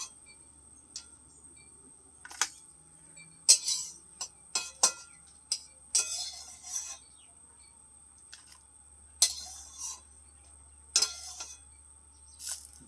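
Fried chillies lifted out of a wok with metal utensils, a few sharp clinks and scrapes spaced across a quiet kitchen, with light tapping between and faint chirping in the background.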